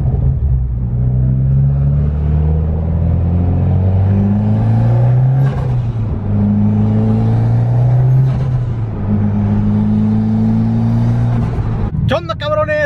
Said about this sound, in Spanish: Había ahí un pinche aceleradita que le di ahí nomás para calarlo